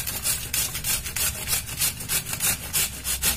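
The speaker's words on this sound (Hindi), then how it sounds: "इसे हम कद्दूकस कर लेते हैं तो जो बड़े छेद का होता है उसी से कद्दूकस करें" Papaya is grated on the large holes of a kitchen grater, making a steady run of about a dozen close, rasping strokes in even rhythm, with no voices.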